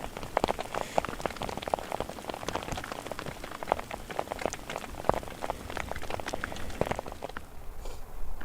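Rain falls and patters on a nearby surface in rough hunting country, with many sharp, irregular drops and splats over a steady hiss, close and moderately loud without talk.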